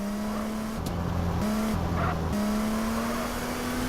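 Car driving in GTA: a steady engine drone with abrupt pitch shifts as the gears change, continuous and close throughout.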